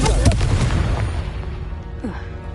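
Confringo spell blast in Hogwarts Legacy: a loud, booming burst with crackling impacts up front that decays into a rumbling, fading tail over a couple of seconds.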